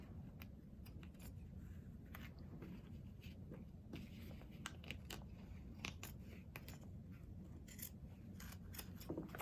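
Scissors snip and rasp along the edge of a paper bag being trimmed for a glued fabric craft piece, a steady close run of short crisp cuts over a soft background hiss.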